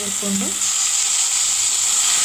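Tempering for ridge gourd sambar frying in a pan, a steady bright sizzle running throughout with a brief stirring or scraping sound near the start.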